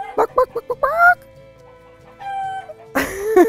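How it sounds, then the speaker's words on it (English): Chickens and a rooster in a hen house at an organic garden in Central Texas: a quick run of loud, close clucks, then a drawn-out call, and a strained rooster crow after an egg is laid. "that's the rooster announcing that an egg has been laid"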